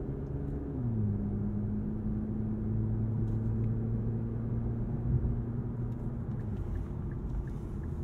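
A 2023 Infiniti Q50 Red Sport with twin-turbo engine and 7-speed automatic, all-wheel drive, accelerating as a steady engine drone steps through gear changes, heard from inside the cabin with no talk.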